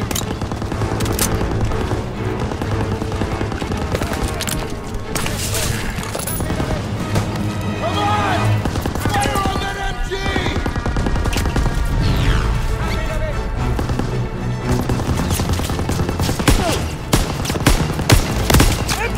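Sustained machine gun fire and rapid gunshots in a Call of Duty WW2 battle on Hill 493, loud and continuous with booms and crashes, voices shouting over the fighting.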